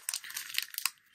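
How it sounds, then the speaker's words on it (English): Foil wrapper of a Pokémon trading card booster pack being torn and crinkled open by hand, a short burst of close, bright crackling and ripping. "I'm having the toughest time opening up these packs today."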